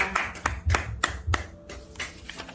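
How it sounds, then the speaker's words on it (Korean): A church congregation claps in praise to God during a worship and lecture session, a few sharp rhythmic claps, fairly faint, with a murmur of voices beneath. "하나님께 영광의 박수 올려드립니다"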